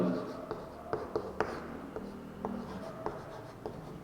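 Pen or chalk scratches and taps out a maths equation in steady short strokes, close and moderately loud, with a quiet voice talking in the background.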